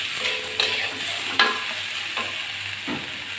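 Potatoes fried in a pan with chopped onion and garlic for a bitter gourd and potato dish give a steady close sizzle, broken by a few sharp scraping stirs, with no voices.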